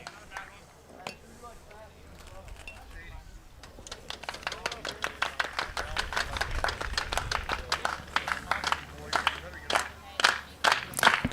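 Steady clapping from the Fairview dugout at an Ohio high school baseball game against Tinora, a run of sharp, fairly close claps building in the second half, with a commentator talking over it.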